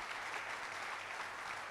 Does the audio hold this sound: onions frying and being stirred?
no